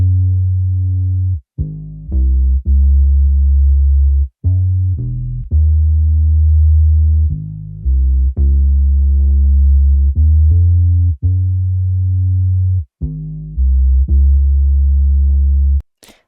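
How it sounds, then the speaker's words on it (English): Moog bass synth line written for a pop song chorus, heard alone as deep, sustained low notes in a steady rhythm with brief gaps between phrases. It plays loud and close for about sixteen seconds. "And now we have this moog bass that I did just for the chorus"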